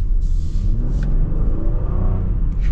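Mazda CX-90 or Honda Pilot SUV pulling away under acceleration, a steady loud engine rumble with smooth rising drone heard from inside the cabin, no talking.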